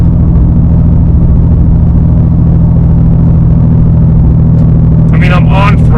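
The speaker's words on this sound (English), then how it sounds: "hopefully you can hear the tires as well. We're cruising 68 mile per hour on the highway" Atturo Trail Blade XT tires roll along a highway at 68 mph, producing a constant low droning roar with engine rumble inside a car with the windows up, and a voice speaks briefly at the end.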